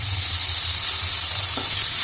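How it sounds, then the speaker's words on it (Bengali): Steady, close sizzling of tomatoes frying in hot oil with black cumin seeds, a continuous crackling hiss with no voices. "টমেটোটাকে একটু নেড়ে ছেড়ে ভাজা ভাজা করে নেব"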